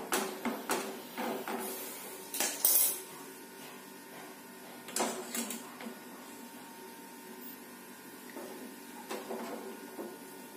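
Orange jam, made from three ingredients without preservatives, being stirred nonstop in a pan: irregular scraping and rasping strokes over a steady low hum, close by, with no talking.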